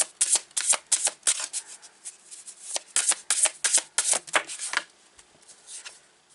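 Tarot cards being shuffled by hand, with crisp riffling bursts in quick repeated runs and short pauses between them, close and fairly quiet, with no talking.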